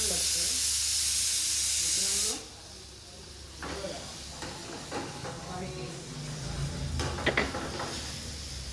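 Onion masala sizzling as it is added to a hot pan for a home-style mutton meal, a loud steady hiss that cuts off abruptly, followed by quieter crackles, scraping and clatter while a voice speaks.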